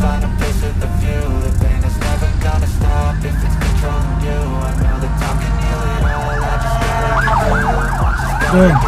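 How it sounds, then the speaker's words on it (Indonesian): An ambulance siren passes along a busy street in Makassar, its warbling wail rising through steady traffic noise and growing louder toward the end. "Ada ambulans lewat."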